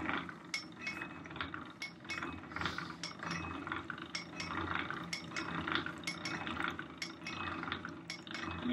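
An Acme hand-cranked post drill bores into metal, its ratchet and gears clicking in a steady mechanical rhythm, quiet but distinct, with faint metallic clinks.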